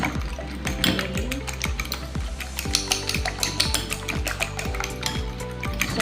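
Chicken breast fillet coating beaten in a bowl with utensils, a steady run of quick clinks and scraping strokes, close and fairly loud with no talk.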